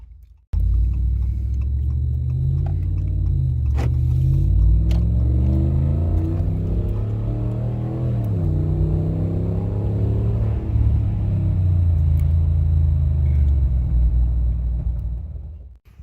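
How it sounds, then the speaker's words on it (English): A 2017 RAM 1500 single-outlet pickup with its muffler deleted drives steadily, then accelerates, a loud continuous deep exhaust rumble with rising revs and gear changes, close by and without talk. "here's a little bit of what it'll sound like at normal speed and then accelerating"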